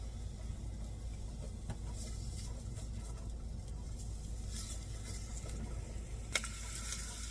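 Oil and food cooking in a pan over raised heat, a low steady sizzle with soft bubbling and a few faint clinks, one sharper knock near the end, no talking.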